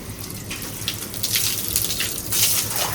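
Water pours steadily onto plants and trees during monsoon-season watering: a continuous rushing splash that swells slightly louder toward the end, with no voices.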